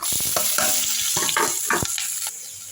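Onion and curry leaves frying in hot oil over low heat, with asafoetida in the pan, giving a steady close crackling sizzle with a few sharp pops and utensil knocks.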